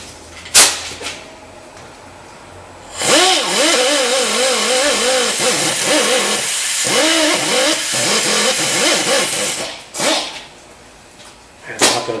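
An air-powered sanding disc grinds rust off a brake rotor on a 2007-2013 Nissan Altima, a steady loud whirring with wavering pitch that starts abruptly, runs for about seven seconds with a brief dip midway, then cuts off.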